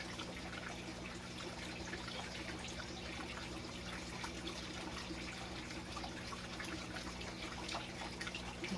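Water trickling and splashing into the soil of a potted Meyer lemon tree during deep watering, a faint, steady, continuous flow with no voices.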